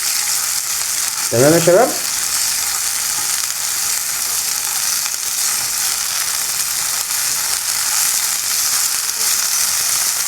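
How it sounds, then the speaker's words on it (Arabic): Cowpeas sautéing in hot oil: a steady, bright sizzle of frying runs throughout, with a man's short spoken greeting near the start. "حطينا الزيت وادي اللوبيا بتاعتنا، هنشوحها عشان ما تشربش الصلصة بتاعتنا"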